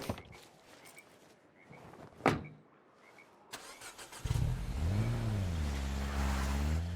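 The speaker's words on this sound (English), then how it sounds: "Okay, the engine is squeaking, so let's give it a repair." A squeaking vehicle engine in a video game cranks and catches, then settles into a steady, rumbling idle with a wavering pitch, after a few scattered clicks and thumps.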